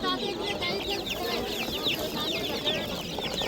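Chickens cluck and squawk in a busy Samarkand bird market, a lively chorus of hens and roosters close by, with people talking among them.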